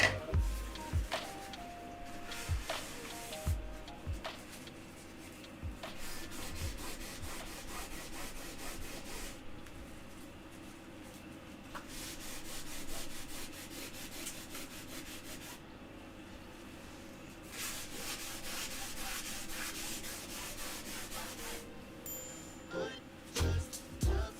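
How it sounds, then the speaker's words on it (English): Material is scraped off a surface by hand in repeated rasping strokes, in bursts of steady back-and-forth rubbing with short pauses, close but fairly quiet. "That's what I should do, just see if I can scrape it away."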